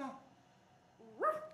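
A lone dog gives a short, close yelp or bark near the end, after a quieter stretch, with no talking over it.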